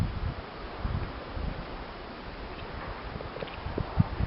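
Wind gusting through snowy woods after heavy overnight snow, a steady low rumbling buffet against the microphone with occasional louder gusts and faint rustling.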